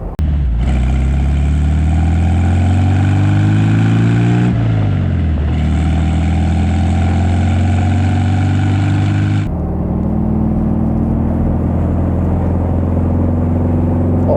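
A black 1964 Porsche 356 C Coupé drives along with its engine loud and close, the pitch climbing through each gear before a shift at about five and ten seconds, then settling into a steady cruising drone.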